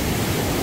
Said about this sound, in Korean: 낙폭 직각으로 떨어지고, 여기도 폭포가 하나 더 있어